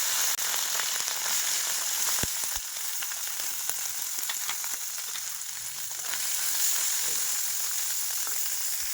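Chanda fish sizzles as it drops into hot white oil in a wok, a steady close frying hiss with scattered crackles and pops that carries on evenly throughout.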